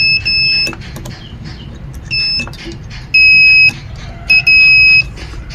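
A multimeter's shrill continuity buzzer beeps in several bursts of varying length, some short, some held about half a second, over a quiet background hum, while testing a blinking 32-inch flat-screen TV.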